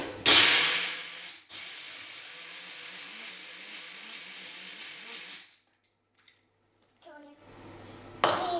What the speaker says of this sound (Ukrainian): Так, ми перемелюємо кілька у блендері.